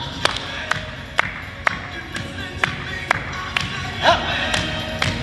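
A group in an exercise class claps hands during a rest between moves, giving sharp separate claps at an uneven, roughly half-second pace over background music and room noise.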